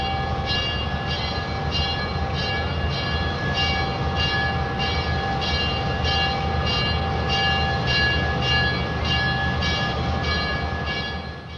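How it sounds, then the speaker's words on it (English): Diesel locomotives haul passenger train 406 into a rail yard, a steady loud rumble with a sustained horn-like tone and faint rhythmic wheel clatter throughout, no voices. "The diesels which brought 406 from Brockville take her as far as her assigned reception track and then leave her."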